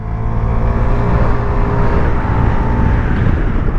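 A Vespa GTS 125 scooter's 125 cc engine runs smoothly and steadily at close range, a continuous even hum with no speech over it.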